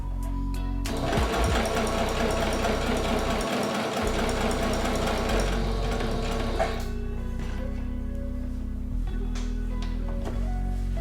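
Sewing machine stitching a pocket onto a tee: a close, loud, rapid mechanical whir and needle clatter running steadily for several seconds, then stopping, followed by a few short bursts and motor hum.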